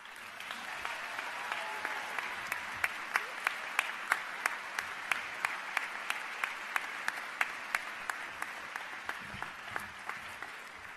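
An audience at a journalism college spring commencement ceremony applauds steadily for about eleven seconds, with dense even clapping and a few louder nearby claps standing out.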